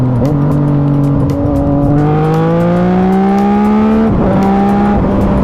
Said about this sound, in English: So here, I'm gonna go full throttle in B.